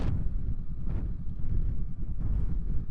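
Steady roaring wind buffets the microphone on a motorcycle ride into a headwind during a group desert ride in Borrego, a dense low rumble that holds constant throughout with no speech.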